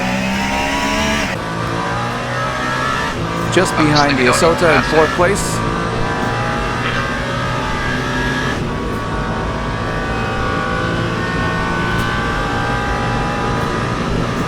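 A race car engine in Le Mans Ultimate drones steadily throughout, with faint revving and a brief tire-squeal burst about a third of the way in, all beneath continuous commentary.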